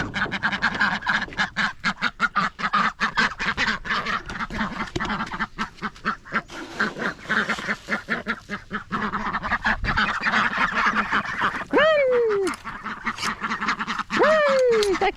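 Domestic ducks quack loudly and rapidly in a close, continuous chatter, and two longer honking calls rise above the flock near the end.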